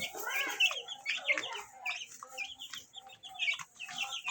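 Rhode Island White cross Leghorn chickens cluck in a busy overlapping chorus, several birds close by, with short squawks breaking through the steady chatter.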